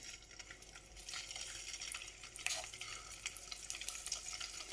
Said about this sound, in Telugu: వాటిని ఈ కాగిన నూనెలో వేసి చక్కగా వేపుకోవాలి